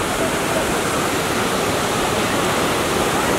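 The waterfall at Rock Garden in Darjeeling gives a loud, steady, close roar of falling water that fills the scene without a break.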